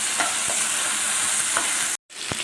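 Tomato and tamarind fry in oil for mint pachadi, giving a bright continuous sizzle with a few stirring knocks, a brief dropout near the end, then the hiss resuming.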